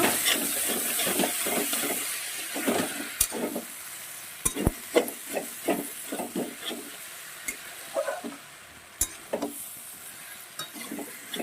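Mixed vegetables with prawns stir-frying in oil in a pan, a spatula scraping and clacking in an irregular rhythm over a continuous close sizzle, no voices.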